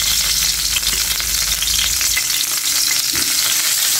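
Fish frying in a hot pan for rice cooked in a clay pot, giving a steady, close hiss and crackle of oil that fades slightly partway through, with no talk.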